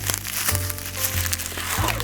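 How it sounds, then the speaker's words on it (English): Plastic bags or newspaper are crumpled and squeezed by hand to sculpt a form, giving close, crackly crinkling bursts over a couple of seconds. "we can just sculpt with some plastic bags or some newspaper like this"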